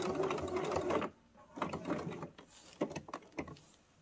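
A sewing machine stitches a seam in fabric, first a loud continuous run, then short bursts of stitching separated by brief pauses, close and with no talk.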